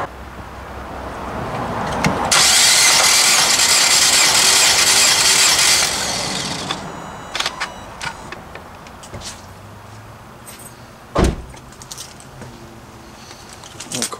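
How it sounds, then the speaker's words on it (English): A 2020 Nissan Rogue Sport with an oil-burning problem cranks over for several seconds, a loud steady whirring burst from the starter, then falls quiet apart from scattered clicks and a sharp knock. "I'm going to turn the engine over, and I'm going to let it turn over maybe 7 times"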